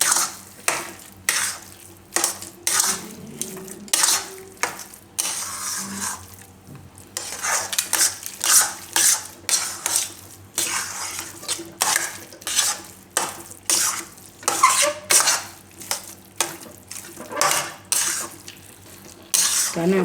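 A spoon stirs jaggery into a sweet water chestnut flour shiro in a metal pan, producing steady repeated scraping and clinking strokes, close and fairly loud, with no talk.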